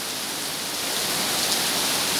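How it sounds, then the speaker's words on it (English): A steady, dense hiss of heavy rain falls in Pattaya during a stormy downpour. The roar is broadband and continuous, with no talk. "we need this rain so much."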